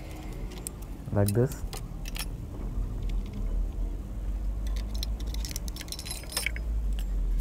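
Metal clutch plates pulled from an old-model cast-iron Royal Enfield engine jangle and clink together near the start, followed by lighter metallic ticks and taps over a steady low rumble, with someone speaking briefly.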